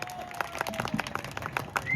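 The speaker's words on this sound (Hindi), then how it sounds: "मारो जोर से ताली" Audience clapping at a live village comedy stage show during a Laxmi Puja celebration in Sarkanda, with brief, irregular, fairly faint claps scattered over a couple of seconds.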